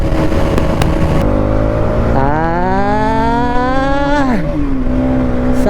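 A Bajaj NS 200 motorcycle engine revs hard at high speed, a loud close drone that climbs steadily in pitch, holds a strained high note, then drops sharply as the throttle eases.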